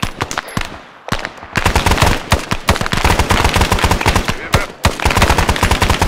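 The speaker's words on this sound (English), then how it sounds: "This bunch of shots off the other side of the bridge." Machine gun fire in the Vietnam War game SOG Prairie Fire comes as loud, dense, rapid bursts, broken by two brief pauses.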